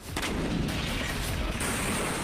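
Bombs dropped in an airstrike on a machine building plant in wartime Ukraine produce a continuous, heavy, rumbling blast roar that stays loud and dense throughout, with no voices heard.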